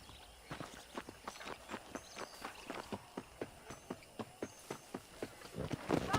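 Horse hooves clip-clop at a steady walking pace in the Red Dead video game, a regular string of evenly spaced sharp hoof strikes at close range over a faint background.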